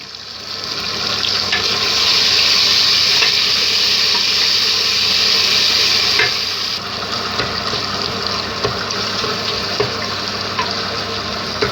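Ginger, garlic and tomato sizzle steadily in a hot pan, a continuous hiss that swells and then eases slightly, with occasional soft stirring clicks.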